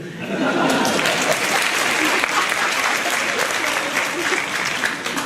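An audience at a live comedy show bursts into applause, a dense wash of clapping that swells quickly and holds steady, with faint chuckles mixed in.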